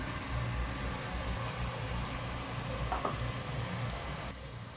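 Bigeye trevally fish belly sizzles in a frying pan, its fatty belly lining rendering oil; a steady, close crackling hiss runs throughout with a brief sharper tick near the middle.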